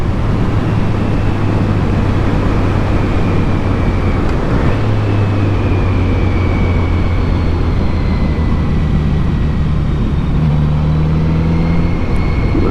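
A Kawasaki Z900RS motorcycle accelerates along a twisty back road in Virginia, its engine droning loud and close with rising and shifting tones over heavy wind rush, continuous throughout.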